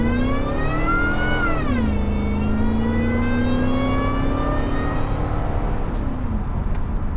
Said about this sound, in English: we're gonna test out the acceleration. We'll do a rolling start.